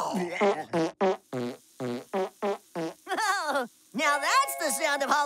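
Cartoon fart sound effects in a comedic animated scene: a rapid series of about ten short, sputtering blasts in quick rhythm, followed by longer wobbly, pitched trumpeting farts, loud and up close.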